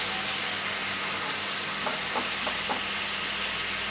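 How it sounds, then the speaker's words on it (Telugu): Wild gooseberries (amla) fry in oil for an old-style pickle, giving a loud, dense sizzle that holds steady, with a few soft pops and stirring knocks in the second half. "ఇప్పుడు అట్లా చేసుకున్న ఆయిల్ తోటే మనం ఉసిరికాయలు వేయించుకుంటాం."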